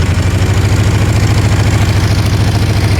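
A 1978 Honda Hawk II 400cc motorcycle engine idles loud and close, with a steady, even low throb and no voices.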